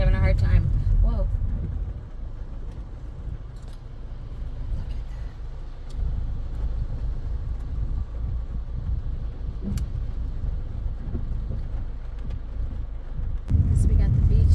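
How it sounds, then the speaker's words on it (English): A car labors on a street in Cancún, its low engine rumble droning steadily with traffic noise. Voices talk over it throughout. "Oh, that one car is having a hard time."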